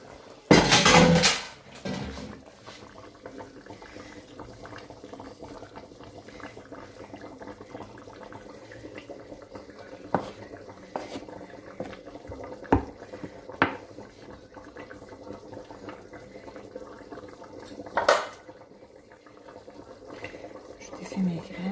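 Cooked couscous grains are emptied from a pot and broken up by hand, with an early loud clatter of cookware, then scattered clinks and scrapes of utensils against metal over a soft background hiss, with occasional talk.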